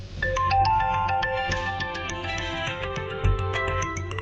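An incoming-call ringtone on a phone plays a bright electronic melody of repeated notes, clear and fairly close, running steadily with no talk over it.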